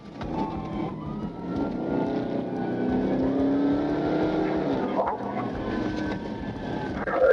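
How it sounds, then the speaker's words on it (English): Dodge Charger Scat Pack speeding away during a police chase, a steady loud engine roar that holds throughout and swells near the end, with no talk over it. "Charger Scat Pack sped off at dangerous speeds, tearing through the area."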